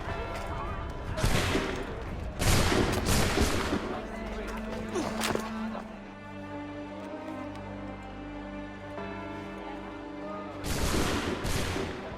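A volley of musket fire from soldiers in Assassin's Creed 3: several loud cracking shots in quick succession, then a lingering rumble beneath a tonal score, with a second burst of shots near the end.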